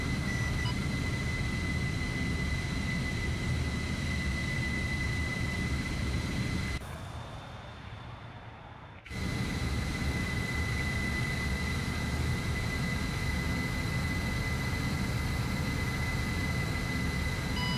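Aircraft taking off in the video game ArmA 3 from an LHD ship deck, a loud continuous engine roar with a steady whine that briefly drops and dulls midway before returning at full strength.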